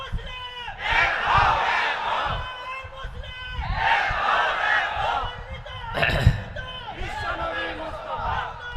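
A large crowd roars a loud takbir response in three long swelling shouts, each rising and fading, with a brief sharp burst between them.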